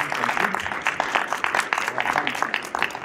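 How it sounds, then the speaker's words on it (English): Audience clapping for presenters at a budget forum held in a school, a dense burst of many hands applauding close by, steady and lively across the whole stretch. "let's give our presenters a round of applause"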